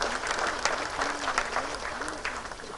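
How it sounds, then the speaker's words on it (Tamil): Steady audience applause fills a film audio launch event, a dense continuous patter of many hands held at an even level, with a voice tone faintly running underneath. "உங்கள் கரகோஷத்தோடு எங்கள் நன்றியை நான் தெரிவிக்க வேண்டும் என்று ஆசைப்படுகிறேன்"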